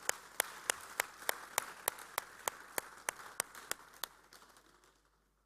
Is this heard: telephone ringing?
no